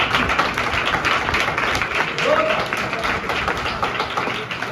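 A Sunday church congregation gives loud applause for a team of performers, sustained dense clapping that carries evenly across the whole stretch, with faint voices mixed in.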